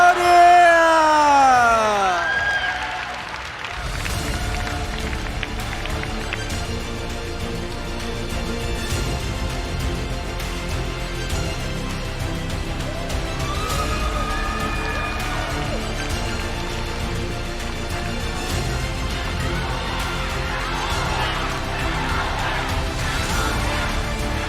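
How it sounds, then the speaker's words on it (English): A large arena crowd cheers the Cambodia team at an esports SEA Games MLBB bronze medal ceremony, with a loud swell at the start and then a sustained roar of voices and yells that carries on throughout. "How they cheer to Cambodia team."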